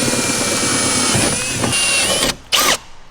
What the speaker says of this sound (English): we could just hold it in place and drill it